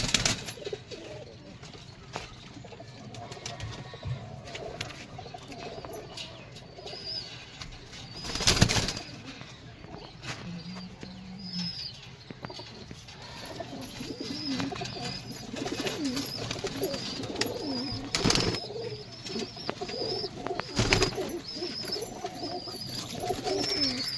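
Pigeons coo softly and repeatedly at close range, with occasional wing flaps and a few sharp thumps amid the steady low calls.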